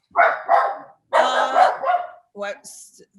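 Dogs bark and yip in short bursts close by indoors, a few sharp barks followed by a higher whine, audible over the quiet of a conversation.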